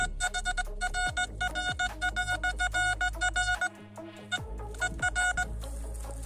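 An ORX metal detector in a forest emits rapid, insistent electronic beeps and warbling tones, a loud repeating signal with a brief pause before the beeping resumes.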